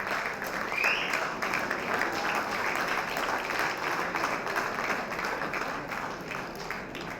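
An audience at a Golden Years event in 2019 applauds continuously and densely as a person walks to the stage, a steady wash of many hands clapping with faint crowd voices underneath.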